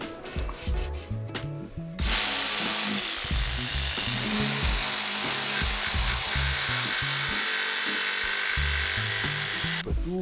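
A wooden van furniture panel is recut by hand to fit, steady back-and-forth saw strokes rasping in a quick rhythm after a few seconds of lighter scraping, close and fairly loud, with no talking.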